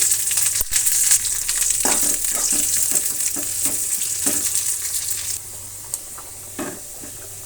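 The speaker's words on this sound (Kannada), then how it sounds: "ಚೆನ್ನಾಗಿ ಫ್ರೈ ಆಯಿತು ಒಗ್ಗರಣೆ" Sliced onion and curry leaves fry in a hot tempering for ridge gourd sambar, giving a steady sizzle with repeated scraping stirs of a spoon in the pan, fading quieter toward the end.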